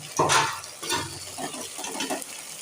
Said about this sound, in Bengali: হাত দিয়ে বারবার ঘুরিয়ে ঘুরিয়ে মশলাটা কষে নিচ্ছি